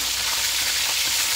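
Talakitok fish fries in a pan with a steady, close hiss of sizzling oil that holds even throughout, heard alone without talk.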